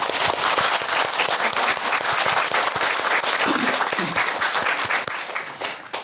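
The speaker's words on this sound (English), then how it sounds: "Oh, another round of applause." An audience breaks into a sustained round of dense clapping that fills the room for about five seconds before it starts to thin out and fade.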